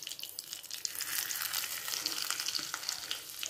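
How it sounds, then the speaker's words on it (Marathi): Fenugreek seeds and cumin sputter in a mix of ghee and hot oil, giving a dense, continuous crackle with quick pops, close but fairly soft, and no one speaking. "मेथी 1 के जी जिरे छान तडतडू द्या"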